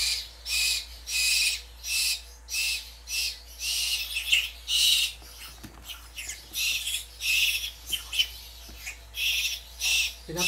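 Caged birds cry out hungrily at feeding time, loud repeated squawking calls in quick rhythmic bursts, one after another, close by with no pause between them.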